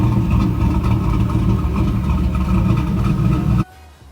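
A fourth-generation Chevrolet Camaro rumbles loudly and steadily through a GMMG exhaust, a deep close idle that cuts off abruptly near the end, leaving faint background noise.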